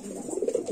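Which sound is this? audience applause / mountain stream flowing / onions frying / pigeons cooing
pigeons cooing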